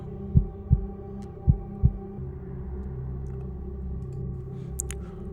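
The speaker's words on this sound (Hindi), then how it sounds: "उसकी दिल की धड़कन उसे साफ साफ सुनाई दे रहा था।" A heartbeat thumps four times, two quick double beats, deep and close, then fades into a low steady hum with a faint high blip near the end.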